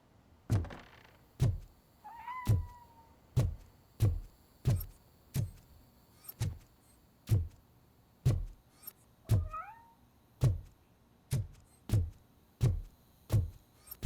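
Two short meows from a cat in the game Robocop: Rogue City, heard over a steady run of about fifteen evenly spaced heavy thumps.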